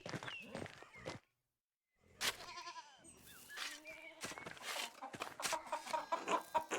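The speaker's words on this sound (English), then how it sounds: "No, I mean the chickens, Peter." Chickens in the video game Pentiment cluck and squawk in short, scattered bursts against a quiet farmyard background, with a brief silent gap before the calls resume.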